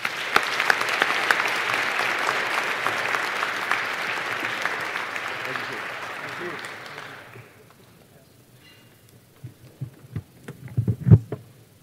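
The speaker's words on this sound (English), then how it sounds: "You have one more round of applause for our speakers." Round of applause from a conference audience for speakers on a military-to-business panel, loud clapping for about seven seconds that fades out, followed by quiet room sound with a few soft thumps and handling noises.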